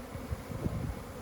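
Honey bees shaken off a frame at the front of a hive during a nuc split, a low soft droning buzz, close and steady for about a second.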